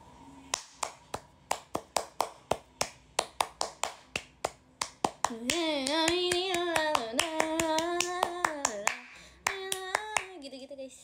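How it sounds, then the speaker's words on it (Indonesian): Indonesian scout rhythmic clap (tepuk pramuka): a patterned sequence of sharp, close hand claps, first in an even beat, then continuing under a sung or chanted voice, with pauses between phrases. "Iya betul, tepuk pramuka."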